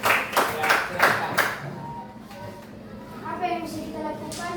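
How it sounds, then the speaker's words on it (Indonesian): Brief burst of group clapping for a classroom group at a school session, a few loud claps that quickly fade, followed by speech. "Tepuk tangan dulu untuk kelompok 1, luar biasa."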